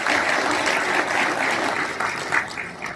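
A crowd at a felicitation event for auto and e-rickshaw drivers applauds the organising committee, a continuous, fairly loud burst of many clapping hands that swells and dips over three seconds.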